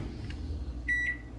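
A microwave oven hums low and steady while heating food for about 15 seconds, then a short high electronic beep sounds near the end.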